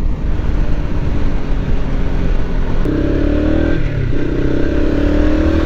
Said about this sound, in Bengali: হাই RPM-এ সাউন্ডটা অনেক সুন্দর, বেসটা অনেক ভালো, স্টক এক্সজস্টেরই।